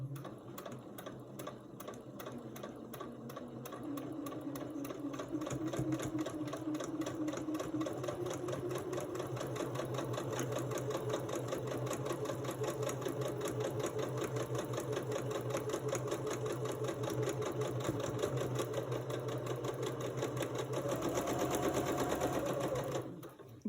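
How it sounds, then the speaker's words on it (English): A sewing machine stitching quilt pieces together, running in one steady, continuous close-up whir with a rapid needle chatter that holds almost unbroken for over twenty seconds before stopping abruptly. "And we will now sew those."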